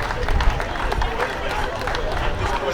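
An audience at a Paterson city inauguration ceremony gives sustained applause, a dense patter of many hands clapping with crowd murmur and voices mixed in.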